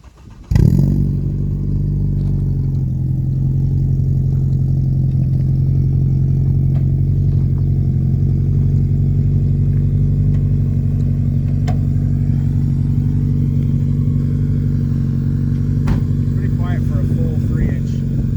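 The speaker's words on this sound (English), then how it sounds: "let's hear this new exhaust you got" Car exhaust fitted with a 3-inch MagnaFlow resonator and a Carvin muffler, on a 190E Evo II: the engine fires up, then holds a loud, close, steady drone with a deep hum and slight rises in revs.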